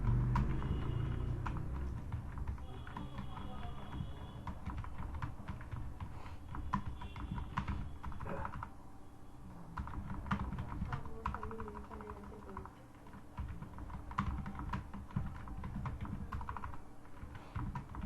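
Typing a line of text on a computer keyboard, steady quick key clicks close by with brief pauses, over a low room hum and no talk.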